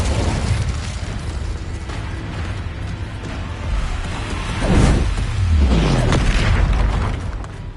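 Spell explosions from Bombarda and Confringo boom during a Hogwarts Legacy battle against a troll, with deep rumbling blasts and whooshes layered over a constant loud game-combat din.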